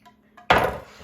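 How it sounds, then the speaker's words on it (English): Garlic dropped into hot oil in a pan over medium-high heat for a fresh pasta sauce, giving a sudden close sizzle burst that fades over a second after a couple of faint clinks. "We're going to put the garlic right into the pan."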